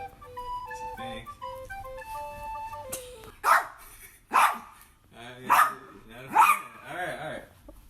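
A pet dog named Keela or Whiskey lets out four loud, close barks spaced about a second apart, following a short tinkling melody played just before.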